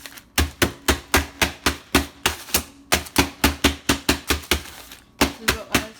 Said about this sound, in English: I took Thin Mints and I put it in this bag because we are adding Thin Mints to the cookie mix. And then we just crush them.